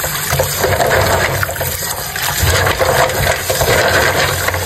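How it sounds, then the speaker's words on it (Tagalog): Kibit shells are swished and rinsed in water, producing loud, continuous sloshing and splashing with uneven surges and no talking. "Huhugasan ko lang po muna ito ng maraming beses para po talagang malinis."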